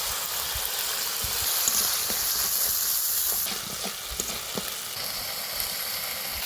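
Onion with ginger garlic paste frying in a pan over a dung-cake fire for fish curry, a steady moderate sizzle with occasional stirring scrapes and taps.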